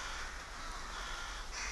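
Rooks settling into the leafy tops of a bamboo grove roost in Ulsan, a dense, continuous wash of distant cawing from a large flock filling the background, with no single call standing out.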